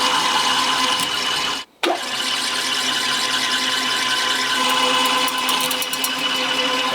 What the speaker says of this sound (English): we just let the drill bit do the work, and it's all over in a couple of seconds